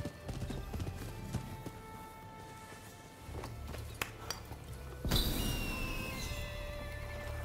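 Horse hooves in Rise of the Ronin clop and clatter at an irregular pace against a quiet game ambience, with a brighter rush of sound swelling midway.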